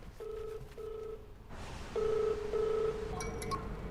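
A mobile phone ringtone repeats in short melodic bursts, a brief pause, then louder rings over faint room noise, with no talking.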